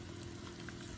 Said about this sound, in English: I'm gonna saute the onion there.